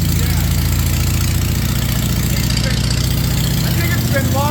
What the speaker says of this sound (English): I can't believe how tight the motor sounds